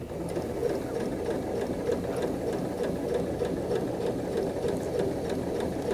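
Sewing machine stitching an inside curve seam right along the fabric edge, a steady continuous whirring with a fast mechanical rhythm running throughout at an even, close-up level, with no talking.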